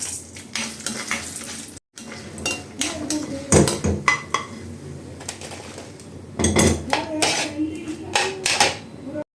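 Dried red chillies frying in a pan of oil, with a continuous sizzle, a spoon scraping and stirring, and metal clinks against the pan, loud and close, with a couple of brief drop-outs.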